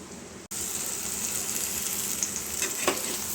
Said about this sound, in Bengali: ডিমটা এবার এইদিকে ভালো করে ভাজা হবে, অমলেটের মতন